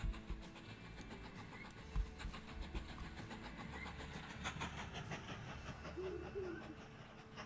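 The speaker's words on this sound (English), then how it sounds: "Okay, we got three trains down here in Kansas City." Trains rolling on tracks in the railway game Mashinky, a steady low rumble with faint clickety-clack and a brief whistle-like tone near the end, fairly quiet and without talk.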